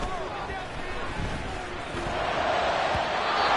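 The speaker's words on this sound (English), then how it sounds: "I'm starting to detect an uneasy murmur through this crowd" Home football crowd in a stadium murmuring uneasily, a steady broad wash of distant voices that swells slightly louder toward the end, with no distinct cheers or boos.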